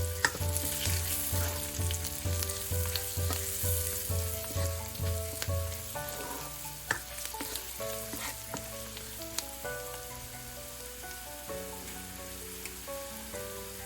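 Onions fry in a pan with turmeric and Kashmiri chili powder, giving off a steady, soft sizzle under louder background music with a plucked melody and beat throughout.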